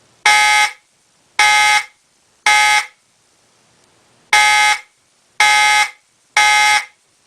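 A Simplex fire alarm sounds in a code 3 temporal pattern: two groups of three loud, harsh electronic blasts separated by a pause, close and alone with no talking.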